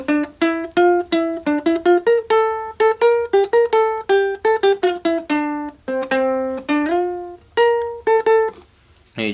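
Ukulele playing a full melody at speed, quick runs of bright plucked notes in a bouncy rhythm, close and fairly loud, ending on a few ringing notes with no voices.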